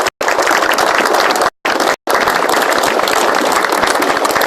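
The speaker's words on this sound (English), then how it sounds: "I think they deserve a round of applause for their service." Crowd at an FDNY 9/11 memorial ceremony applauds four American heroes; a steady, dense wash of clapping fills the space, broken by a few abrupt silent gaps.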